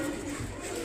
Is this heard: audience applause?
no